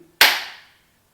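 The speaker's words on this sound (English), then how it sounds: "Why don't you come up here and clap?" A single sharp hand clap rings out close and loud after a brief quiet moment, its bright snap decaying over about half a second with no talk.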